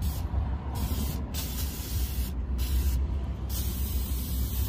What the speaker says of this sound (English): I'm gonna spray brake cleans around here.